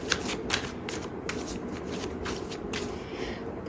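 A deck of tarot cards is shuffled by hand close by, a run of quick riffling, flicking bursts that repeat steadily over the brief stretch, with no voices.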